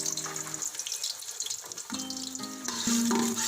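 Onions frying in a deep cooking pot for beef pulao, a steady close sizzle with watery bubbling that grows louder toward the end.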